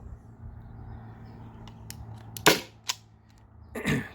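A Byrna SD launcher powered by an 8-gram CO2 cartridge fires a few sharp, fairly close pops with pauses between them, each short and bright, against a quiet background.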